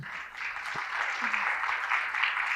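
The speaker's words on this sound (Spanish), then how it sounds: "primero un aplauso para" Audience at a reading, writing and oral storytelling conference applauding, a steady mid-level clapping that sounds moderately near and keeps up without a break for a couple of seconds.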